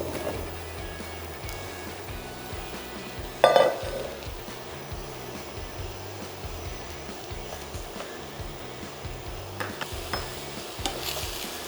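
Mushrooms sizzle steadily in a frying pan for a ham and parmesan polenta gratin, a constant close crackling hiss with one sharp utensil clack early on and faint scrapes later.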